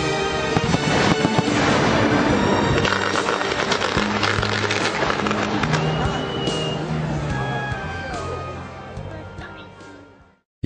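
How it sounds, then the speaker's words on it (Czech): Fireworks crackle and boom continuously at a distance over Čelákovice after 10 p.m. at a footbridge opening celebration, dense bursts overlapping before fading out toward the end. "Po 22. hodině mohli celé Čelakovice sledovat velkolepý ohňostroj."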